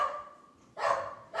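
A dog at home barks indoors, two sharp, fairly close barks about half a second apart, after a fading whine-like tone, with no talking.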